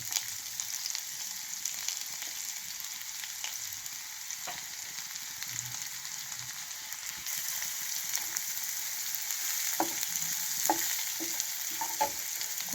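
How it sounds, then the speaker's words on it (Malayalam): Chopped onion frying in coconut oil for mutton curry gives a steady, fairly loud broadband sizzle throughout, with occasional clicks and scrapes from stirring and no talking. "അതിലേക്ക് 1 ടേബിൾ സ്പൂൺ വെളിച്ചെണ്ണ ഒഴിക്കുക. ഇത് ഒരു മുഴുത്ത സവാള ഉള്ളി അരിഞ്ഞതാണ്. അതിനെ ഇതിലേക്ക് ഇട്ട് കൊടുക്കുക."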